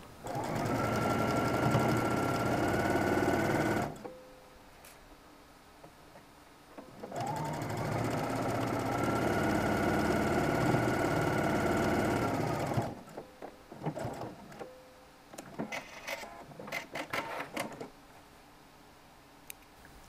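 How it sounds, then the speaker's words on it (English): A sewing machine stitching down the folds of a shirt sleeve hem in two sustained runs of steady whirring, close and fairly loud, separated by pauses with faint clicks and fabric handling afterward. "we're going to sew our folds down just 1/8 of an inch in"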